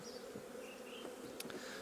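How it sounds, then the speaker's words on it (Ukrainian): Honeybees buzz steadily in a dense swarm around an apiary, a continuous droning hum close by with a few individual insects passing louder near the microphone. "Зараз бджола, велика кількість бджоли літає, збирає пилочок і нектар з алечі"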